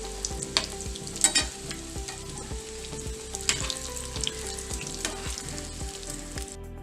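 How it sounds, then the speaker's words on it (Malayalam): Semiya dumplings fry in shallow oil, the pan giving a close, continuous sizzle and pop with light spatula taps and faint scraping at regular intervals, and no voices. "നമുക്ക് അതുപോലെ തന്നെ മറ്റേതൊന്ന് എണ്ണയിലിട്ട് പൊരിച്ചെടുക്കാം"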